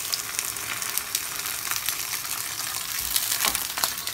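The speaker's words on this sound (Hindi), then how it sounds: "अब फिश फ्राई भी होगी और स्टीम के साथ थोड़ी सी स्टीम भी होगी साथ में" Fish frying in a pan inside a banana leaf gives a steady, close sizzle with crackling pops and occasional stirring scrapes, and no talk over it.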